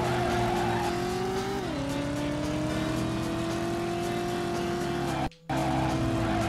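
Cars in the PS1 video game Driver roar steadily with a sustained engine tone that shifts pitch mid-clip, loud and continuous, broken by a brief dropout near the end.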